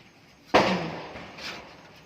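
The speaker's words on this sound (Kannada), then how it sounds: "ಪಟಾಕಿ ಹೊಡಿಯೋಕ್ಕೆ ಅಮ್ಮು ಯಾವ ಥರ ರೆಡಿ ಆಗಿದ್ದಾಳೆ ದೀಪಾವಳಿ ಹಬ್ಬಕ್ಕೆ." A single loud Diwali firecracker bursts with a sharp bang at a home festival celebration, then a trailing crackle and fading rumble, heard alone without talk.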